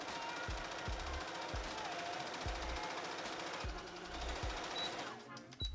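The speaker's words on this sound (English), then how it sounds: "putting these pretty side to pretty side and sewing them together down either side here" A sewing machine stitches fabric dress pieces together down both sides, its rapid mechanical chatter running steadily, punctuated by periodic low thumps.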